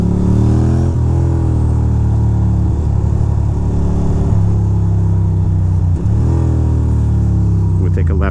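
Cars maneuvering through K-turns and U-turns on a road in Astoria Park, with a loud, steady engine rumble that rises and falls as the vehicles rev and shift, heard close up and continuous.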